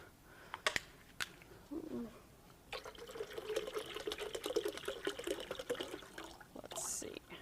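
Water is poured into a blender while cooking, a splashing, trickling stream that starts after a few clicks and bumps, stays moderately loud for several seconds, then stops.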